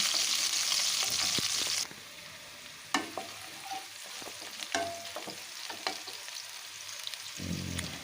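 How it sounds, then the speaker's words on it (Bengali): Green chili and garlic stir-fried in a pan, with a bright oil hiss at first, then quieter sizzling under irregular clattering stirs and scrapes, and the hiss swelling again at the end. "দিয়ে দিচ্ছি কাঁচা লঙ্কা আর রসুনটা এটাকেও এখন বেশ ভালো করে একটু নাড়াচাড়া করে ভেজে নিচ্ছি"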